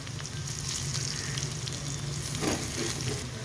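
Garlic and chillies frying in hot oil for a tempering, a loud continuous sizzle and crackle close up with no talking.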